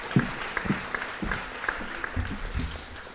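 Audience applause at a general assembly, a steady patter of clapping from a moderate crowd that carries on evenly for a few seconds.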